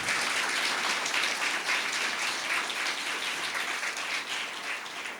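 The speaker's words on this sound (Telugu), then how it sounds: "నమ్మిన వారు దేవుడికి గట్టిగా చప్పట్లు కొట్టు." A congregation applauds during a church sermon, a dense, steady wash of clapping that holds for the whole stretch and fades only slightly at the end.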